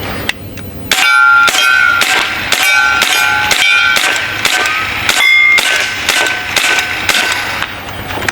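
AEA Terminator PCP air rifle firing a magazine in rapid semi-automatic succession: a dozen or so sharp, loud metallic clanging shots with ringing pings, evenly spaced and close, with no talking.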